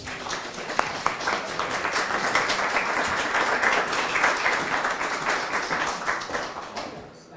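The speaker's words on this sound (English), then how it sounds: "So please give her a warm round of applause." Audience applause at a senior center welcoming a state representative, a dense, steady wash of many hands clapping that holds for several seconds before tapering off at the end, with no talking over it.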